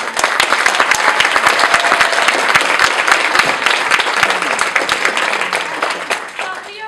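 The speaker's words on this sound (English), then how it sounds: "So give them another round of applause." Audience applause for children's theater performers at a Missoula Children's Theater show, a steady room-filling burst of many hands clapping with sharp individual claps, holding loud throughout and easing slightly at the end.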